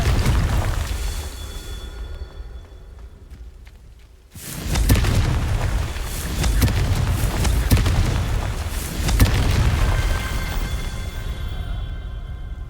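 A Confringo blasting spell in Hogwarts Legacy goes off as one heavy, booming explosion partway through, with a rumbling roar that carries on over a low game background.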